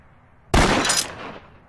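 A single loud gunshot fires from a loaded gun in the Witches' Legacy game: a sudden sharp blast after near silence, followed by a roughly one-second reverberant tail that fades out. No one speaks.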